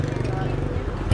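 A Honda Dream Thai motorcycle engine idling close by, a steady low throbbing rumble that continues evenly, with a slight surge at the end.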